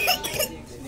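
A child's short, rough, hard-sounding cough bursts out a couple of times, close by, with a bit of background chatter around it; the child is unwell.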